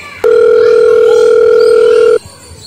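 A telephone dial tone, one steady unbroken tone lasting about two seconds while a call is placed, loud and close, with no speech.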